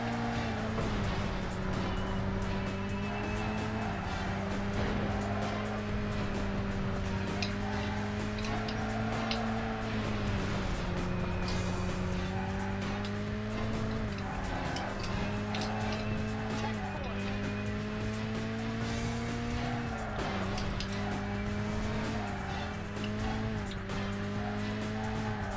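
Race cars lapping a track in the PS2 game Burnout, with a continuous loud engine drone whose pitch rises and dips through gear changes and corners, plus occasional tire squeal, running steadily without a break.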